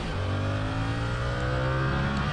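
A 2022 Yamaha R7 motorcycle accelerating, a loud, close engine note with a steady rising whine that climbs in pitch over a couple of seconds.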